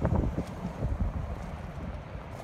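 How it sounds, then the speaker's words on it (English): Strong gusty wind buffets and rumbles across the microphone, with low roaring bursts and no other clear sounds. "Sorry folks, it's really windy today."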